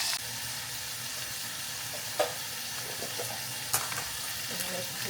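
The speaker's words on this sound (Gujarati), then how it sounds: "અહીંયા પાસ્તામાં નાખવા માટે શિમલા મરચાં ને થોડી વાર કૂક કરવા મૂક્યા છે" Green bell peppers sizzling and frying in a pan for pasta, a steady close hiss with a couple of brief stirring clinks.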